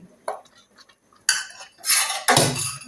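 Cooked rice being stirred into boiling bisibelebath, a South Indian lentil-rice dish, in a metal pot: a few spoon clinks, then several loud scraping, stirring bursts against the pot, close and clear.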